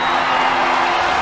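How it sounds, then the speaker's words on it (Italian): A crowd cheers and applauds for a performer introduced on stage at a show, a dense, steady wash of noise close and loud that carries through without a break. "fate un grande applauso per Lady Raven"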